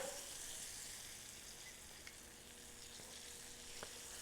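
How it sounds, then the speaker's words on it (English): Chicken pieces for chicken cacciatore sauté in a skillet, giving a steady, soft sizzle and frying hiss with a few faint pops and ticks. "We're going to let those saute up for a quick second"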